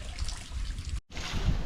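Water splashing and trickling as clothes are washed by hand, a loud close wet churn that cuts out for an instant and then resumes.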